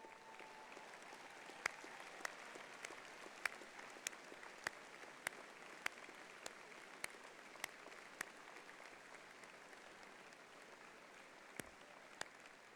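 Applause from a university commencement audience, a continuous patter of clapping at moderate distance, with a few sharper individual claps standing out.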